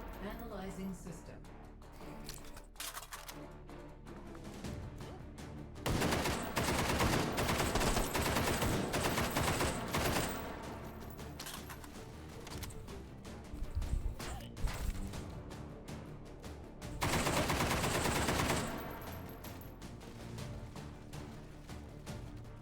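Gunfire from a shooter video game: rapid automatic bursts erupt loudly in long stretches, with quieter gaps and a short separate volley between them.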